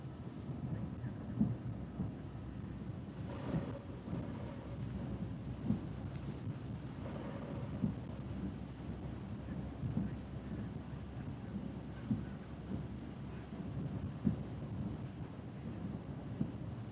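Steady outdoor rain patters and hisses throughout, with occasional soft drops and gusts of wind, fairly faint and even, with no voices.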